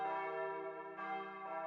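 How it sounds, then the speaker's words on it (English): Church bells ring out in front of a church in the visual novel Narcissu, a sustained rich tolling with two fresh strikes swelling over the lingering hum, alone and fairly soft. "The rolling sound of bells."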